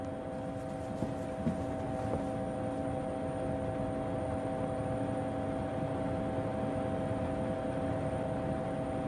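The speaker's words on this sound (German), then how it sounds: "Mit dieser Stange zwischen den Beinen lenken Sie den Hubschrauber." A cartoon helicopter flies with a steady, droning engine hum and rotor whine that holds evenly throughout, with a few faint clicks near the start and no voices.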